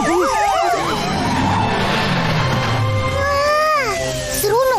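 Wailing emergency vehicle sirens in an animated cartoon rise and fall continuously, loud and close, several overlapping, with traffic rumble underneath and a faint voice at times.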